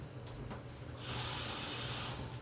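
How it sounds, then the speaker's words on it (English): Tap water runs steadily onto a pan as it is rinsed under a kitchen faucet, a close, bright hiss that swells louder halfway through and holds, with a low hum underneath. "I just rinse it off."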